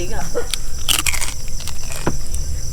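A crisp bite into roast lechon belly from a 5 kg slab, one sharp crunch near the start of a short stretch of close chewing and crackling, with background voices throughout.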